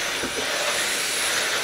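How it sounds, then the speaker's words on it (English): A small Dyson vacuum cleaner runs in a steady, loud, airy whine with a broad hiss, used indoors during holiday craft work; no talking. "Get my little Dyson vacuum."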